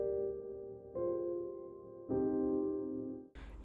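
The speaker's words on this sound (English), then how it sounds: "If you turn this to the right and play with lower velocity, it's going to sound like this." Soft atmospheric ambient piano played at low velocity: three gentle sustained chords, each swelling in and lingering, with a brief noisy burst right at the end and no voices.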